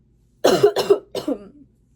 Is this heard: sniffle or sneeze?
yes